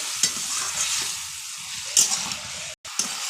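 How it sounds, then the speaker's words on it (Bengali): Fried potatoes and pointed gourd being sautéed with spice paste in a pan, a continuous sizzle broken by a few sharp stirring scrapes and one brief cutoff. "এবার ভেজে রাখা আলু পটলটা দিয়ে দেবো। আর একটু কষিয়ে নেবো আলু পটলটা দিয়ে।"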